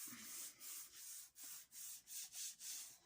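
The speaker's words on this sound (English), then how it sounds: "we'll give it a nice firm rub there" A Gelli plate print gets a firm hand rub for an image transfer, a soft, close, dry scrubbing in about nine quick back-and-forth strokes.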